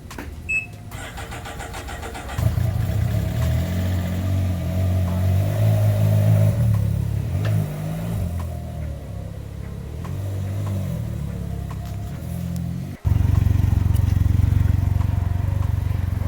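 A Can-Am Ryker Rally motorcycle idles close by with a steady low engine rumble, cuts out briefly near the end, then comes back louder and fuller.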